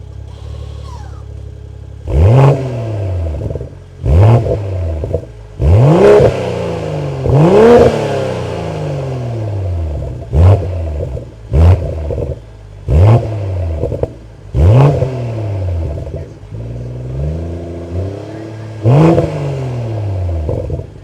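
An AC Schnitzer-tuned BMW M240i G42 is revved repeatedly while stationary, giving about nine loud, sharp blips that each rise and fall back to a steady idle between them.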